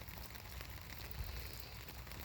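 Rain falls steadily around an outdoor table, making a soft, even patter and hiss that stays faint throughout with no voices.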